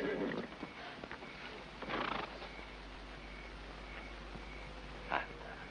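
A horse gives a faint whinny in a classic western film, with brief stirrings and a short louder call near the end over a quiet background.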